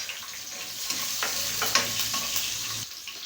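Garlic and onion sauté in a pan for a Filipino pakbet, a steady sizzle with scraping stirs and a few sharp clatters, close and without talk.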